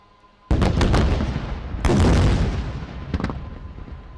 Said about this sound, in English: Please watch area fuel dumps at Tango 4, Tango 5 on the left and Tango 8 and Tango 9 on the right for incendiary strikes.